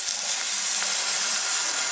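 Chicken broth is poured into a hot pan of frying rice, raising a steady, loud steaming hiss and sizzle that holds throughout without pause.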